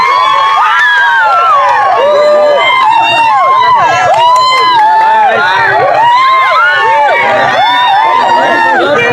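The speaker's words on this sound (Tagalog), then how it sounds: "Malayo pa lang sigawan." A crowd at a rally for Sara Duterte shouts and cheers continuously, with overlapping whoops and wavering voices heard from some distance, loud and sustained throughout.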